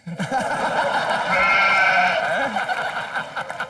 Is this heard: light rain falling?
no